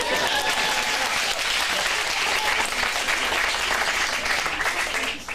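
Sustained applause from an audience after a teen acting showcase scene at an acting studio in Phoenix, dense, even clapping filling the room for several seconds before tapering off at the end.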